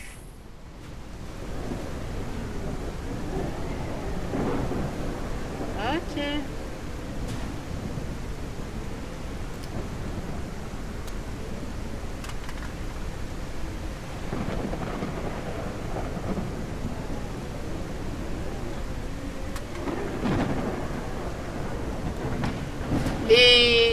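Steady rain and a rumbling thunderstorm from the island-building video game Restore Your Island, a constant hiss with low rolling swells of thunder throughout, under occasional brief talk.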